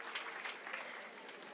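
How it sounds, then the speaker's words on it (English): An audience at a Women in Tech panel session on Africa's economy applauds a speaker, a brief, fairly quiet patter of many hands clapping at a distance that stays steady to the end. "a round of applause for her"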